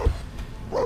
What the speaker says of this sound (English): Why are you barking at him?